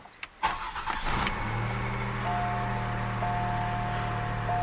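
A 1987 Oldsmobile Toronado engine cranks briefly, catches and settles into a steady, moderately quiet idle with a faint high whine, heard close with no talking.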